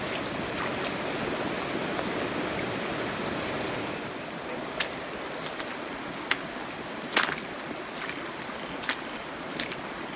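Water rushes steadily through a flooded woodland creek after rain, a continuous broad wash with a few sharp splashes or clicks toward the end.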